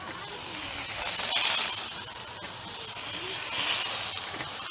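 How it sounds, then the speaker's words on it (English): Thick pork chops sear in a pan at a campsite, a loud steady sizzling hiss that swells and eases, close up with no talk. "I'm going to sear these thick pork chops off"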